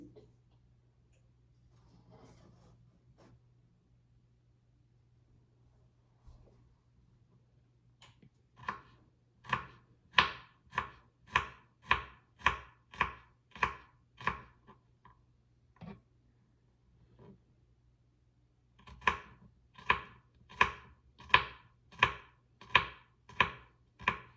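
Garlic chopped by knife into flat thin slices on a board, brisk evenly spaced taps in two runs of about a dozen strokes each, close and crisp after quieter scattered sounds.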